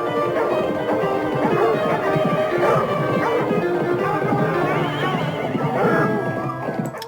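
Horses neigh and whinny repeatedly at close range, with some hoof clatter, in a loud, busy mix on a music album's audio track.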